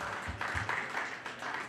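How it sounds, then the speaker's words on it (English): A round of applause for partners at a corporate event, soft distant crowd clapping in uneven bursts, faint and diffuse. "a huge round of applause to all of you"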